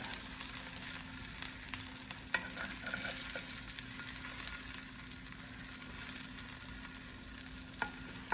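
A meat and cheese quesadilla on a tortilla crisping in a hot pan, with a steady close sizzle and occasional sharper crackles, alone.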